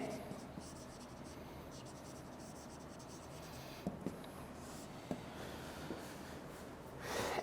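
A lecturer writes on a board during an English lecture, giving scratchy strokes and a few sharp taps against a steady room hiss, with breathing and faint voice traces around them.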